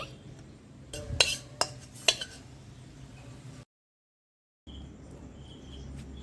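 Homemade mango chunda pickle is poured out of a cooking pan, with a few sharp metallic clinks and scrapes of a utensil against the pan. The sounds come close and fairly quiet, then a brief silence, then soft background noise returns.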